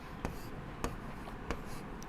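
Pen scratching out a solution by hand for a Class 10 surface area and volume maths exercise, a few sharp strokes at a steady pace, close and fairly quiet, with no talking.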